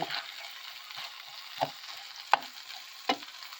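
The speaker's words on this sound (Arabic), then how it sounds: "غادي نضيف القزبر المعدنوس وغادي نخلط كل جيدا" Coriander and parsley stirred into olive oil in a pan give a soft, quiet frying hiss, broken by four or five sharper scraping stirs spaced out over a few seconds.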